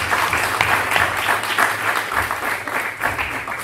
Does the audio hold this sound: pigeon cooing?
no